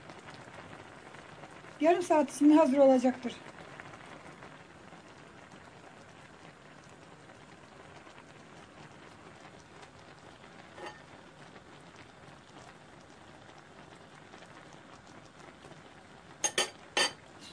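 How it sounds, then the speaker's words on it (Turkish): Tangerine-segment jam simmers in a pot with a soft, continuous bubbling and crackle, faint and close, while someone talks briefly and a few utensil clinks sound near the end. "Şu anda reçelim çok güzel kaynıyor."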